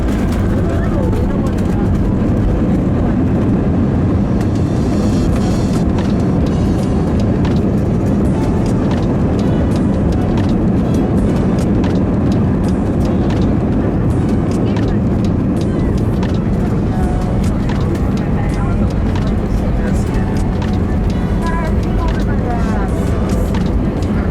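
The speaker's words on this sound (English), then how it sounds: "Oh, that's a rough landing." An Allegiant Airlines airplane touches down roughly at Des Moines, a loud, constant broadband roar of engines and rumbling wheels that lasts throughout, with talk occurring in the cabin over it.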